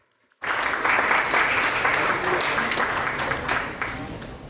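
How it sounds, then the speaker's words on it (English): After a brief silence, an audience at a winners' panel discussion bursts into sustained applause, loud and dense, slowly tapering toward the end. "A round of applause."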